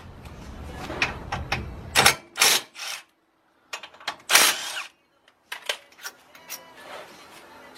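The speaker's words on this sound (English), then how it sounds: "all you gotta do is loosen these two back bolts for the brake caliper" A ratchet clicks in bursts of quick, close pawl ticks while loosening 13mm brake caliper bolts, broken by short pauses and a few heavier clunks.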